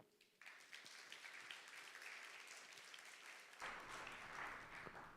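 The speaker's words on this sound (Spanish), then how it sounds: "Denle un aplauso a Jesús." A church congregation claps in applause during a Spanish-language service, a fairly quiet, sustained patter of many hands that swells louder toward the end.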